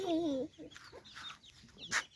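Chickens at a village house on a cold morning: a drawn-out hen call opens, followed by softer scattered clucks, faint and somewhat distant in quiet surroundings.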